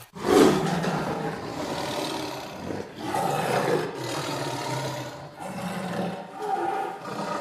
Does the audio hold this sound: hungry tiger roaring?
yes